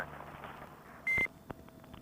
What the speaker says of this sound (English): I hear your Roger beep loud and clear.